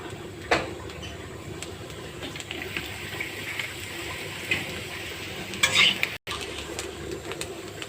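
Potato peels fry in oil with a soft continuous sizzle, while a spoon stirs and clatters against the pan in a few sharp knocks, close and moderately quiet.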